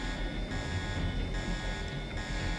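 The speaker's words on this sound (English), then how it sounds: "The alarm wants to be permanently on." Deus Ex alarm at Castle Clinton blares steadily and loud, a sustained buzzing tone with stacked harmonics holding level over the whole stretch without pause.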